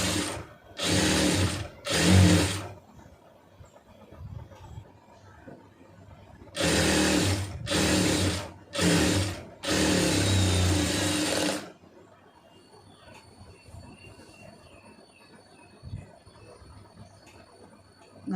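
A sewing machine stitches a folded quarter-inch hem on a Poonam saree, in four or five loud bursts of rapid whirring, each one to two seconds long with brief pauses between them. After the bursts there are faint handling sounds.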